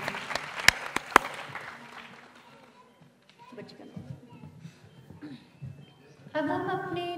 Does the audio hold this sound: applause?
yes